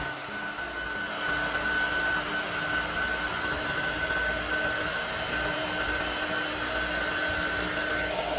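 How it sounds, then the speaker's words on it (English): A mini 300W hot air gun blows steadily while heating heat shrink tubing, a continuous close whooshing hum with a faint high whine, unbroken throughout. "I will apply heat."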